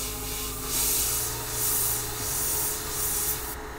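An airbrush sprays paint onto a skull-and-flames design, giving a steady, close, airy hiss that swells and eases in several short passes and cuts off at the end.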